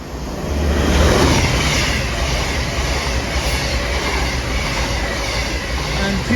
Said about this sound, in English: here comes the two voyages running from London Euston to Glasgow Central